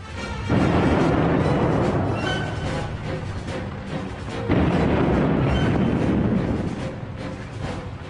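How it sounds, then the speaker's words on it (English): A British WWI tank fires its 6-pounder gun, heard as heavy booming blasts with dense rumbling din at about half a second and again near four and a half seconds, sustained loud battle noise throughout. "the leading British tank, the Mail, opened fire with its 6-pounder gun"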